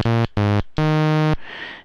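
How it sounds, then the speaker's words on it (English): Ramp waveform from a Prismatic Spray bytebeat synth: three bright, buzzy tones, two short and one longer, then a brief noisy hiss, loud and close with no voice. "the waveform is equal to time. So as time progresses, it just gets added into itself and increases by one every step, producing a ramp waveform,"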